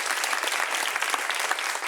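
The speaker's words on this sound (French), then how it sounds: "Applaudissements pour vous-même." A television studio audience claps in a short, dense, even burst of applause with no voices over it.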